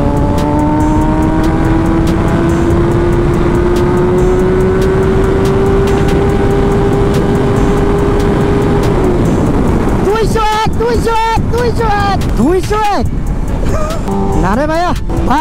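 Kawasaki ZX-10R motorcycle accelerating hard on a road ride, engine note climbing steadily in pitch before shifting, followed by sharp revving bursts, loud and close, with someone talking over it.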